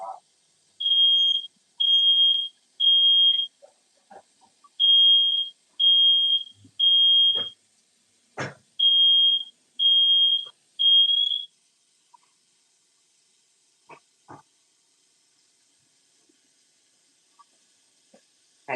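A touchy kitchen smoke alarm, tripped while bacon cooks in a skillet beside boiling rice water, sounds a rapid series of loud, shrill beeps in close succession, then stops, leaving scattered clicks and handling noises.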